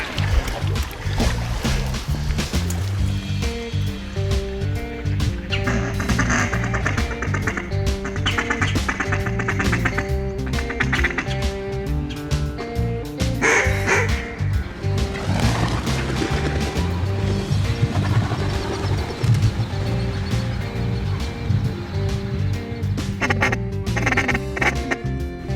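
Ducks quack repeatedly during an Arkansas timber duck hunt, a busy run of calls close by over light tapping and splashing noise.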